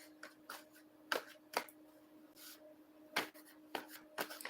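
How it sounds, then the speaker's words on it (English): Oversized tarot cards reshuffled by hand during a live reading, giving soft repeated riffles and slaps of card stock in irregular bursts, close and quiet over a faint steady hum. "So let me just reshuffle my cards."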